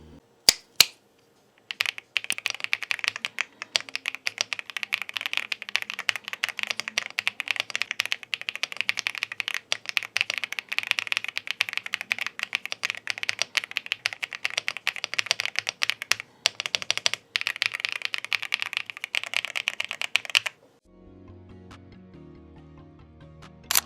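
Fast, steady typing on an RK L75 mechanical keyboard rattles out close and clear for about twenty seconds with no talking, then stops and a softer, different sound briefly follows.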